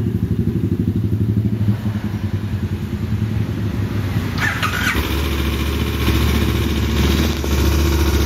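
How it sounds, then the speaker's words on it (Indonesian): A KTM 1050 Super Adventure motorcycle engine idles steadily with a fast, even ticking rhythm, close and loud, with a little mechanical clatter throughout. "Ciri khas KTM, bunyi mesin sedikit kayak mesin jahit."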